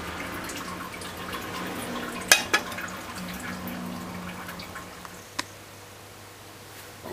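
Water drains off cooked broad beans as a soft, faint trickle, broken by a few sharp clinks and drips from the pot or colander.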